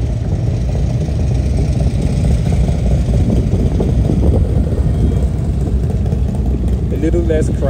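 Motorcycles rumble and idle on a crowded street in Deadwood during the Sturgis rally, a dense, continuous engine roar with people talking in the background.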